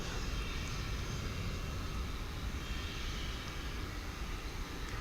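A tri-jet airliner at DFW Airport gives off a steady, distant engine roar with a low rumbling drone that holds level and unbroken, with no voices.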